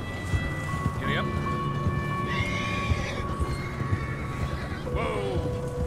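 Horse in Red Dead Redemption 2 whinnies twice with rising-falling calls, its hooves clip-clopping steadily beneath, set against a windy outdoor game ambience with a constant low rumble.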